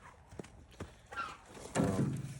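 A nearly three-year-old wild Mustang moves around, its hooves giving a few scattered thuds and scuffs that build into louder, heavier stamping near the end.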